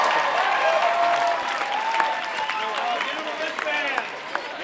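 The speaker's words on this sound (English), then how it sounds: "please, round of applause" Crowd applause and cheering welcoming the mayor at a large outdoor gathering in Austin, Texas, dense clapping with voices and whoops mixed in throughout.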